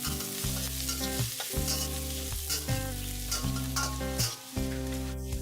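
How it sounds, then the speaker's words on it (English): Minced garlic stir-fries in hot oil in a wok for Indonesian mi goreng, a dense steady sizzle broken by rhythmic scraping and tossing strokes of the spatula, close and loud, with no voices. "Once the oil is hot, add the minced garlic and stir fry until fragrant."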